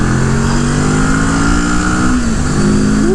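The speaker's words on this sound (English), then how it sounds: "I like the sound of this bike. It's kind of quiet until the RPMs get up a little bit more." A CFMOTO motorcycle engine drones loudly and steadily on a track, holding a smooth rising rev before easing off and picking up again near the end, close and continuous with no talk.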